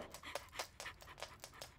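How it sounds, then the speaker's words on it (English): A cartoon dog pants in quick, even breaths, about seven short huffs in a row, close and clear with no talking over it. "Good doggy."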